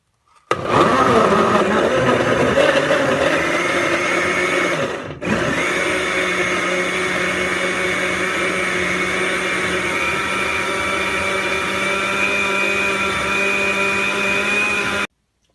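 A kitchen blender whirs loudly and steadily while mixing a strawberry cocktail, with a brief dip in pitch midway before the motor settles into a constant high drone until it cuts off abruptly.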